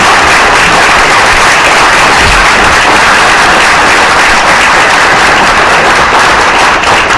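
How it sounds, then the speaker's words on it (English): Attendees at an international stenography and reporting meeting in Ghent give a big, sustained ovation, the clapping very loud and close, blurring into a continuous harsh roar. "I want a big applause for them"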